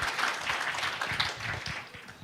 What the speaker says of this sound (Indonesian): Ayo berikan tepuk tangan yang kencang buat Tuhan kita yang baik.